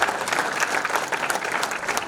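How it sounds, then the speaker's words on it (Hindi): A roomful of people at a Jat Sabha gathering in Chandigarh claps vigorously, a brief dense burst of applause at steady volume with crowd murmur beneath. "जोरदार तालियां उनके लिए बजाइएगा"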